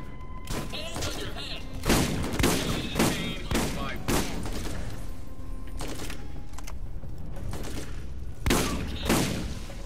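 A shotgun in Borderlands: Game of the Year Edition fires repeatedly at a steady pace, each blast a heavy, punchy boom within a busy firefight, with a voice occasionally speaking over it.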